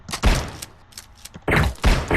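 Shotgun blasts in the Flash game Stick Arena, a quick cluster of heavy booming bursts with a short pause before two more close, loud shots.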